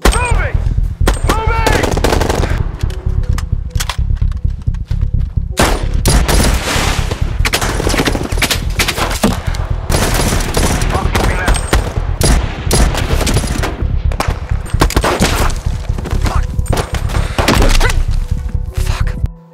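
Rapid bursts of gunfire crack repeatedly, with machine-gun volleys and single shots in dense, loud succession, like a cinematic shootout with faint voices mixed in.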